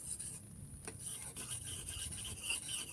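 A locally made Jepara outdoor bushcraft machete blade is rubbed against a sharpening stone in steady back-and-forth rasping strokes, close and fairly quiet, with no talk.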